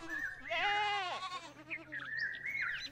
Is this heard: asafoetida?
no